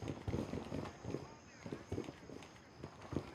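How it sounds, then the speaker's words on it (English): Footsteps in the military shooter Gray Zone Warfare, a quiet, rhythmic run of soft thudding steps at an uneven pace, sounding somewhat distant. "I'm hearing footsteps."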